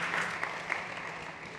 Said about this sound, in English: Big applause for Enrique.